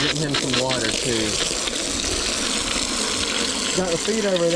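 Water splashes and gushes steadily as it is poured into a cow's water pan set on gravel, continuous and close, while someone talks over it.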